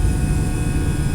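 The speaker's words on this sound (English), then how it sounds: "We've been cleared to take off." Loud, steady airliner engine roar in the cabin during the takeoff roll from Atlanta, a dense low rumble with a constant high whine, no voices.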